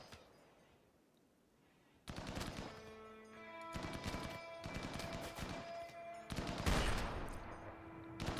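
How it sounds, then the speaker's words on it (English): Battle rifles fire in the video game RimWorld in rapid overlapping bursts after a quiet start, loud, sharp and continuous, with several shots landing close together alongside metallic ringing tones. "Battle rifles going ham."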